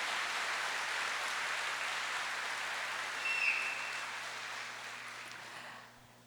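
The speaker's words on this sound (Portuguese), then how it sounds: "pode aplaudir, aplauda." A church congregation applauds steadily, a broad wash of clapping that slowly fades away near the end.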